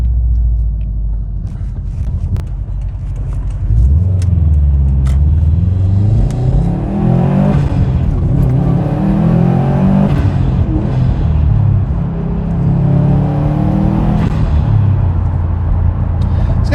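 A 2019 Subaru Impreza WRX STI accelerates hard through several gears, its engine rising and dropping in repeated loud, close revving sweeps with a deep rumble underneath.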